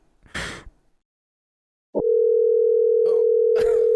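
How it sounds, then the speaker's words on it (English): A brief breathy sound, then a quiet gap, then a loud continuous telephone tone droning steadily to the end, with faint breaths over it. "Why is it still ringing?"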